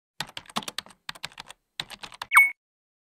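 Keyboard typing for a message in the video game Perfect Tides: quiet, close clusters of quick key clicks in an uneven rhythm with a short pause midway, ending in a brief bright send chime.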